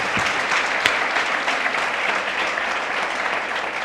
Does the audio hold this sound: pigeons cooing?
no